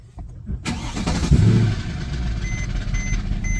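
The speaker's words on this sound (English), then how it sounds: "This is what causes that rattle at startup." A Mercedes E63 AMG with the M156 V8 starting up: a sharp crank and catch, then a steady loud idle with a faint metallic rattle running beneath it, close by and with no talking.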